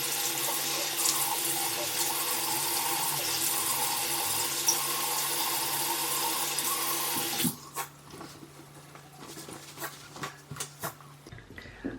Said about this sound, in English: And then we rinse again.